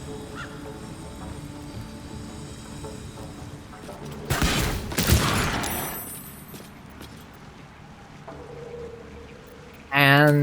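A fire spell bursts across a group of enemies in Baldur's Gate 3, a broad crackling blast rising mid-clip over steady game ambience, then a brief bright chiming effect near the end.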